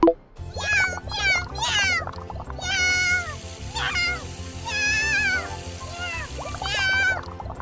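A cat meowing in a pretend pet clinic play scene, loud, close, repeated meows and yowls over a thumping background beat.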